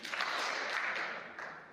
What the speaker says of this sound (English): Let's give Carter 2 claps.